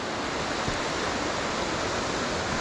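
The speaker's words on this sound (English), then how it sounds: "you can start to see the waterfall coming into view there now" The Hareshaw Linn waterfall gives a broad, unbroken rush of falling water, steady and fairly loud, with no voices over it.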